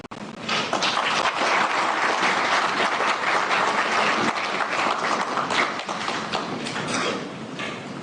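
Sustained applause fills a large hall at an election results tallying centre, dense and steady for several seconds before tapering slightly near the end.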